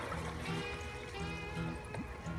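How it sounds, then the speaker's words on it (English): Water drains out of the tube of an aquaponics sand and gravel filter, a close, continuous trickling pour with faint gurgles and a low underlying hum. "There's a shot of the water being drained out of my tube."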